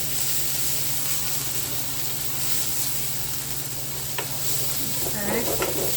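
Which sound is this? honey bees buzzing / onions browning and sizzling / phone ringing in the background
onions browning and sizzling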